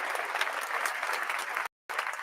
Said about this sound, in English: Let's give Jay Fonda a round of applause for that one.